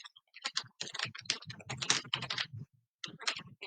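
Rapid typing on a computer keyboard, a dense run of close, crisp key clicks with a brief pause near the end before another burst.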